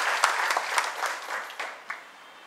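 Audience applause greeting a senior Marathi poet at a literary event, a steady patter of many hands with a few sharper claps, moderately loud and gradually thinning.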